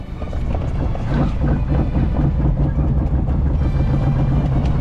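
A sailboat's auxiliary engine runs under sail on the Intracoastal Waterway, a steady, low drone with rhythmic mechanical chugging, loud and close, with a broad wash of water noise around it.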